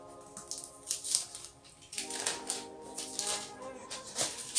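Crinkly rustling and tearing as a sealed The Body Shop package, closed with a sticker, is opened by hand; soft scattered crackles and paper or plastic handling sounds, close and fairly quiet, with brief snips of movement.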